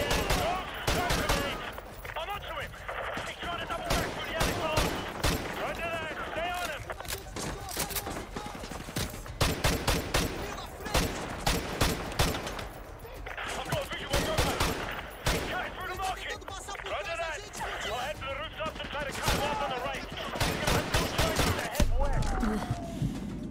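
Call of Duty: Modern Warfare 2 Remastered gunfire, with repeated bursts of automatic weapons and fusillades crackling throughout, at times close and loud, mixed under frequent talking.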